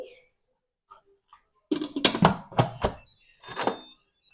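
Lid of an Instant Pot electric pressure cooker being set down and closed, a few small clicks followed by a cluster of loud clattering knocks and a final firm clunk, close by.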